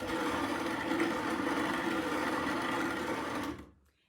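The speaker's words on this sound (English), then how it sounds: "And now we're going to start grinding the wheat." A motorized grain mill grinding einkorn wheat berries gives off a steady, loud mechanical whir that holds evenly for about three and a half seconds, then cuts off into silence.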